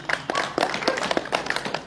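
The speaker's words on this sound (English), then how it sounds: "so give yourselves a round of applause" Small audience of about thirty Rotary club members at a meeting applauding, a scattered, uneven patter of individual claps close by that rises and dips without a steady rhythm.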